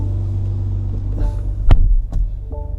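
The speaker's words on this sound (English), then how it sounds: "Let's give you a start up." A BMW X5 xDrive40i engine cranks and fires up, a loud low rumble and throb swelling into a brief rev before settling into a steady idle hum.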